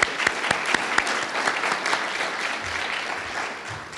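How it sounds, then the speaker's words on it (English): Conference audience applause for an event's organizers, opening with a few sharp near claps that swell into a steady wash of many hands, then slowly thins out. "So Dave, Chris, round of applause,"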